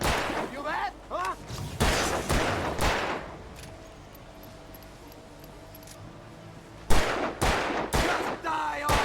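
Gunshots in the video game Alan Wake Remastered: a rapid cluster of loud, sharp shots at the start, a quieter stretch, then another burst of shots near the end, with brief voice fragments among them.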